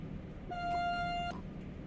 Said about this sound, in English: There, horn honked.